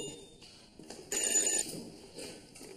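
A telephone rings faintly in a room, with short trilling bursts rising briefly louder midway over a quiet background.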